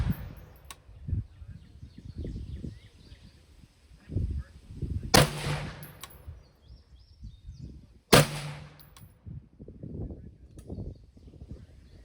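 Two sharp, loud rifle shots ring out about three seconds apart while an LPVO scope is tested outdoors, each one a crisp crack with a brief echoing tail, and murmured talk and faint background noise fill the gaps.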